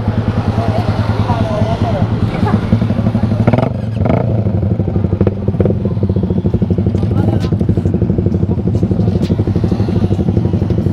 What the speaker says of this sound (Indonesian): Jadi kita nyobain motornya.